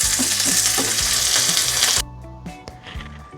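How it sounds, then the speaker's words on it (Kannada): Tempering of spices crackling in hot oil for a festive kosambari, a dense bright sizzle that drops away abruptly midway, with utensil clinks and soft stirring taps close by and no talking. "ನಾನು ಮಾಡಿಟ್ಕೊಂಡಿದ್ದು ಒಗ್ಗರಣೆನ ಫಸ್ಟ್ ಇದಕ್ಕೆ ಹಾಕ್ಕೊತಾ ಇದ್ದೀನಿ"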